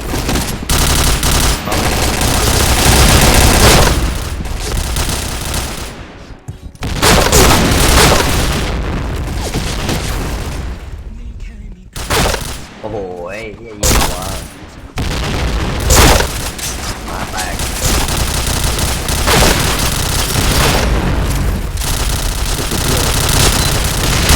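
Grenade blasts and gunfire in a shooter video game: heavy booms and rapid bursts of automatic fire pound almost continuously, loud and close, with only a few brief lulls between volleys.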